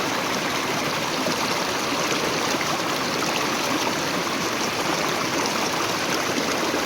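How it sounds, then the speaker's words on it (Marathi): Water pours down from above into a stream at a crab-trapping spot, a steady, close rushing trickle and splash that fills the whole stretch without pause. "या ठिकाणी बघू शकता वरून पाणी येतं आहे"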